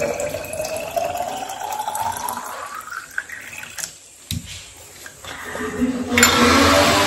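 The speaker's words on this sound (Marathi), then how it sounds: "तर मी पाणी भरते" Water runs from a tap into a container during a jungle safari trip near Chiplun, its pitch climbing steadily as the vessel fills. A louder rush of water follows near the end.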